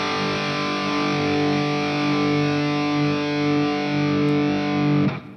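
Electric guitar played through a Sonicake Matribox II Pro multi-effects preset with adjusted gain rings out as a sustained distorted chord, loud and steady before cutting off abruptly near the end.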